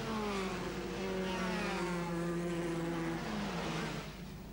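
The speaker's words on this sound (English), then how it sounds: "Through goes Ross Cheever onto his last lap." A 1984 Formula 3 race car on the old Zandvoort circuit sweeps past on its final lap, engine note loud and steady with a falling pitch as it passes close by, alone without talk.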